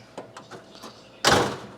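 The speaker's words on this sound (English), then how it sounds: "But when you shut the door" A VW Beetle door swings shut after a few light clicks and rattles of the latch, ending in one firm, close thud.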